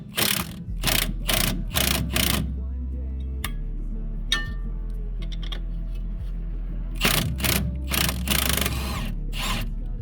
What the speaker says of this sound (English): Using a 19mm, remove both of those bolts holding your wheel bearing assembly into your strut